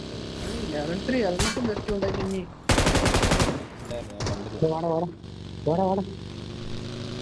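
Gunfire in the battle-royale game BGMI targets a boat, with loud bursts of rapid automatic shots and a few separate cracks, while people talk over the action.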